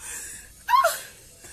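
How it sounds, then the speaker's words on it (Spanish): Heavy, ragged gasping breath from a person hiking up El Peñón near Medellín, one sharp wheezing pant bursting out over quiet outdoor background. "¡Soy el jadeo!"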